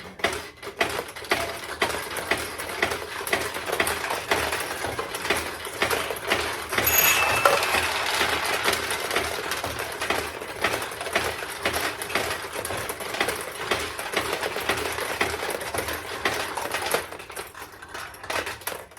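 A restored 1972 Nishijin Model A vintage pachinko machine runs with a dense, continuous rattle of clattering balls and mechanical ticking, close and busy, with no voices.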